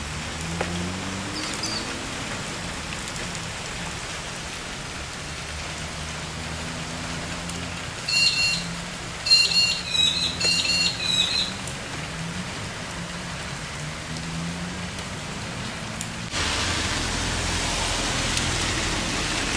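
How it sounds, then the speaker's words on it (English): Steady rain falling on surfaces the morning after Cyclone Anthony, a continuous even hiss that stays close and moderately loud throughout, with a brief burst of distant bird chirps midway. "Enjoy the rain."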